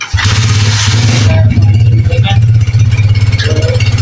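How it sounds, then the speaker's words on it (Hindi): A Honda 125 motorcycle engine starts and idles after cylinder head reassembly, a loud steady low thump with rhythmic firing pulses close by, while someone talks over it. "अभी हम आपके सामने गाड़ी स्टार्ट करेंगे तो इंशाल्लाह इसका साउंड भी चेक करवाएंगे आपको"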